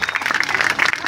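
Audience clapping to welcome guests at a young innovators' summit showcase, a lively, fluttering patter of many hands, close and continuous.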